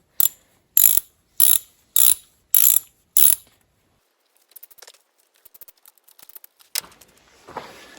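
A ratchet loosens valve cover bolts on a 2002 Pontiac Grand Prix: six crisp, evenly spaced bursts of clicking, then softer scattered clicks and metallic handling noises up close.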